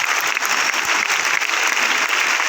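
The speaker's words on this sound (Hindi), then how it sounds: "तो मैं चाहूंगा एक बार सबके लिए जोरदार ताली होनी चाहिए।" Dense, sustained audience applause fills a hall at a 20th anniversary felicitation ceremony. Many hands clap steadily and loudly throughout, with no speech over it.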